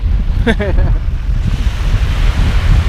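Steady wind roars against the microphone with a low, continuous rumble, and a brief voice-like call rises near the start.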